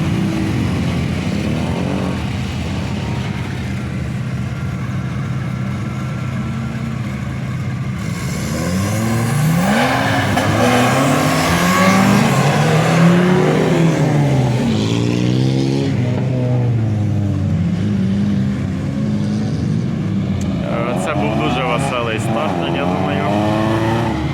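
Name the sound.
quad bikes starting a race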